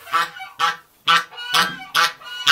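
A goose honks close by in a quick, uneven series of about six loud, harsh honks, with short pauses between them and no voices.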